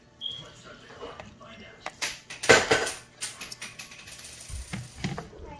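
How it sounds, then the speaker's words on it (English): Cooked noodles for stovetop mac and cheese tumble into a pot of melted cheese sauce, with scattered metallic clinks and scrapes of a utensil against the pot and wet shuffling sounds, close and moderately loud. "I'm gonna go ahead and add the noodles back to it."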